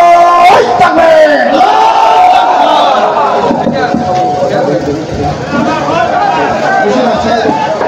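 A large rally crowd roars back "Allahu Akbar" in unison after a leader's call of "Nara-e-Takbir" at a mass gathering in Bagerhat, a loud chant of many voices echoing over a public-address system.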